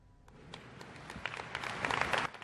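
An audience applauding at the 118th Veterans of Foreign Wars convention in New Orleans, scattered claps building into a fuller patter over a couple of seconds, fairly faint and distant.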